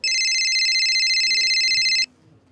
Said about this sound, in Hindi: रिंग कर रहा है, देखिए।